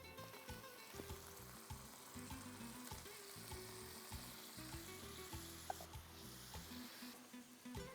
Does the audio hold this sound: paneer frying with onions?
yes